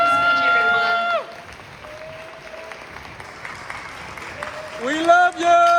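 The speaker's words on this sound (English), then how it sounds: "Let's give her a big round of applause in welcoming her." Applause from a gala audience at a Global Village Foundation event at the Woman's Club in Santa Monica, with speech at the start and end and a softer stretch of clapping in between.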